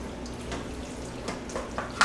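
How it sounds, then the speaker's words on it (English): Marinara sauce stirred into hot noodles inside a pressure cooker on its keep-warm setting, for chicken parmesan, gives soft wet squelching and scraping strokes that stay quiet and close, with a few sharper clicks near the end and no voices. "I'll do half a cup of my marinara sauce. And I'm just going to stir that into the noodles here"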